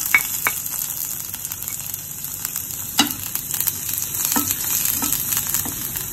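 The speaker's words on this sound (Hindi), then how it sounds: "अब हम इसमें डालेंगे लहसुन की कलिया" Steady crackling sizzle of garlic cloves frying in hot oil, with a few sharp pops and light clinks of a utensil stirring the pan.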